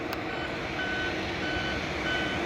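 A truck's reversing beeper sounds in steady, evenly spaced tones over a continuous engine rumble, moderately loud, with no talking.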